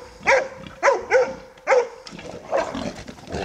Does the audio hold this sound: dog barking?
yes